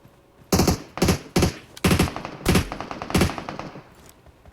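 Bursts of automatic gunfire from PUBG Mobile, six loud sharp volleys in quick succession over a quiet background, with no talking.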